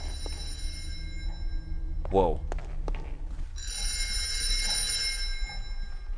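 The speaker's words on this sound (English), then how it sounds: "Better get the phone." A telephone bell rings in Thief 2, in the Rose Cottage fan mission. The bright, steady ringing comes in over the second half, after a short startled exclamation from a voice.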